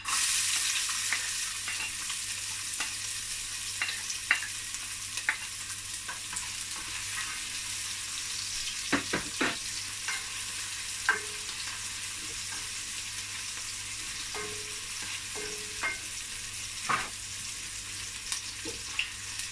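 Onions frying in a pan for okro and ugu soup with seafood, a steady close sizzle with scattered clicks of a utensil stirring through the pan, no voices.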